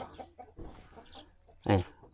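Chickens cluck on a chicken farm in Buriram, Thailand, with scattered soft clucks and one louder, closer squawk near the end, amid low farmyard background.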